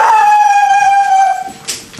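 A dog being trained howls in one long, steady, loud wail close by that fades out after about a second and a half, followed by a brief faint noise.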